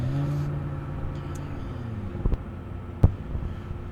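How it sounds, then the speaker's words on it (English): A Subaru Impreza WRX and other race cars run an autocross course at a pro event, heard as a steady distant engine drone with wind noise and a couple of sharp louder bursts near the end. "Working through the crossover now is Dan Padola over on the left side in that Impreza WRX"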